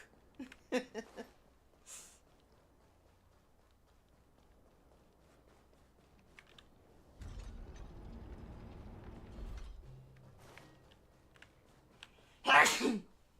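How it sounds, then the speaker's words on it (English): In the video game Honkai: Star Rail, a character's short, sharp sneeze bursts out near the end, after quiet footsteps and a stretch of low rumbling noise. "keep sneezing"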